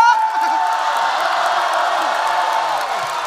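A lively audience at a crosstalk comedy show whoops and cheers continuously, egging a performer on, with voices and shouts mixed into a dense, loud crowd roar.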